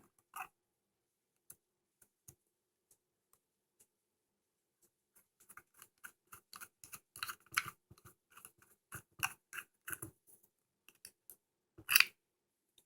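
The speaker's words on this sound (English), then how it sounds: "Alright, so I'm going to take these screws out now." Screws come out of a rusty Winchester Model 61 rifle with small, sparse metallic clicks and ticks. The clicks start isolated, grow into a quick irregular cluster, and end with one sharper snap.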